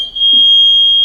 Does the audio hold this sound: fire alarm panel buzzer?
yes